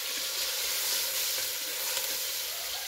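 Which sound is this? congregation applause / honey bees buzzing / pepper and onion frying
pepper and onion frying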